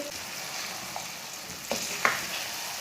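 Egg and green pea curry sizzles steadily in a pan while being mixed, with two sharper scraping stirs near the end; no one speaks.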